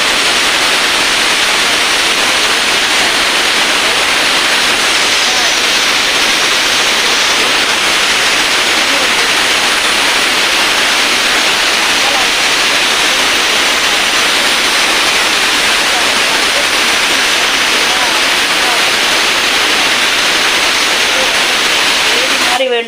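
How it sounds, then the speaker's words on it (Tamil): A mixer grinder grinds raw masala at home, a loud steady whirring roar with a grainy hiss that runs unbroken and close throughout. "ஓகே, மிக்ஸி போட்டாச்சு."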